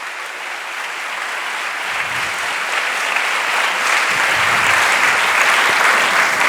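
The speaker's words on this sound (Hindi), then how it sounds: "सारे जोरदार तालियां उसके जलाल के लिए" A church congregation at a Hindi-Urdu sermon gives loud, sustained applause that swells and grows heavier over several seconds, with no talking heard.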